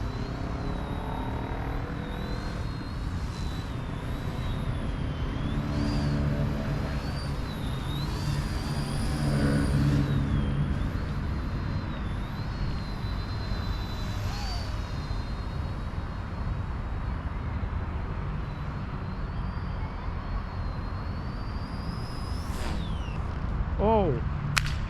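A PD-100 Black Hornet toy RC helicopter drone, a small fast C127 sentry spy model, flies with a whirring motor hum that shifts in pitch as it moves, mostly under a speaking voice, ending in a brief clatter.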